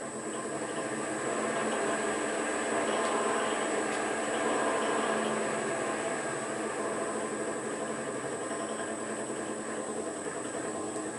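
A Monarch lathe runs slowly in back gear at about 80 RPM, giving a steady, even mechanical hum and whir with a faint whine, continuous and moderately near, with no speech.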